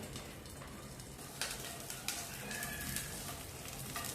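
Green chillies roasting in a little oil inside a covered pan, a steady broadband sizzle with a few sharper crackles and pops, fairly close and continuous, no talking.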